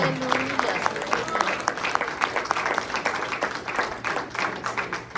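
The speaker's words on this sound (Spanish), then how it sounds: "Denle un aplauso al Señor de verdad" A church congregation applauds, a steady spread of many hands clapping with distinct individual claps standing out, fairly distant and moderately quiet throughout.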